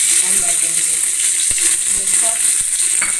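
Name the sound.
ghee sizzling in pot with garam masala, bay leaf, cardamom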